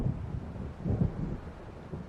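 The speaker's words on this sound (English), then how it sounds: "It seems there's a storm coming." A low rumbling, windy roar of an approaching thunderstorm in the game Alan Wake Remastered, steady and muffled with a couple of swelling rolls, no voices.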